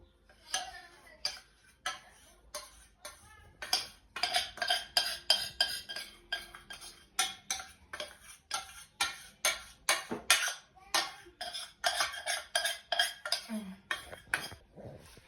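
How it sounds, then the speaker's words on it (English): Whisking melted chocolate into egg white mixture in a bowl, rhythmic clinking strokes of a whisk against the bowl, close and steady, in bursts with brief pauses. "So once you've added your chocolate into your egg white mixture, we're going to whisk it together."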